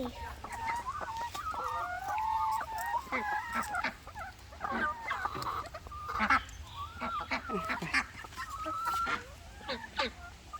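Ducks quack and honk nearby in a busy, overlapping chorus that carries on without a break over a low background hum.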